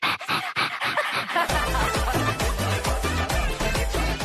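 A contestant on a Telugu TV game show imitates a lovesick puppy with a rapid series of high, breathy whimpers and yips, up close, before loud backing music with a heavy beat kicks in.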